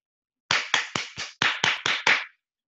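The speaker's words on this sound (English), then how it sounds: "Y'all hear that clap?" Eight sharp hand claps ring out in a quick, steady rhythm, close and loud, each one crisp and separate, followed by silence with no talking.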